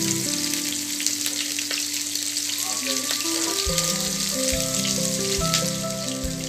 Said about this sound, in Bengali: তো তেলটা আমার গরম হয়ে গেছে, এবারে এর মধ্যে আমি দেবো হচ্ছে এই কেটে রাখা কুচো পেঁয়াজগুলো দিয়ে দেবো।